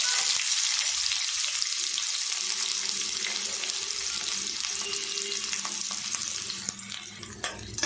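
Onions frying in oil for a chana kurma give off a dense, steady sizzling hiss that fills the whole stretch, close and fairly loud, with faint stirring clinks near the end and no voices.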